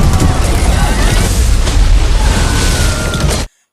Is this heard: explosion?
yes